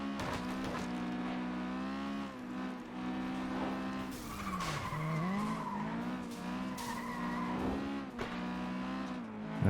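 Race cars in the video game FlatOut 2 skid and squeal their tires over a droning engine, with sharp screeches rising and sliding through the run and a brief hard bump near the end.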